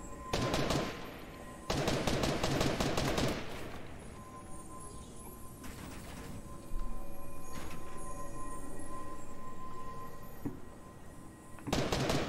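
Several separate bursts of loud, sharp video game gunfire crack out, including sniper shots, with quieter gaps between them.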